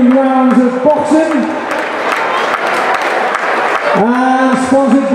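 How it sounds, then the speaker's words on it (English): A boxing crowd at an unlicensed cruiserweight title fight breaks into loud clapping and cheering, with an announcer's amplified voice talking over the applause at the start and end. "let's have a big round of applause for the title fight"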